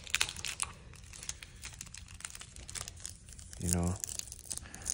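Crinkling foil wrappers rustle and tear as Topps 2024 Flagship baseball card packs are opened, a close crackly texture with a brief spoken remark partway through.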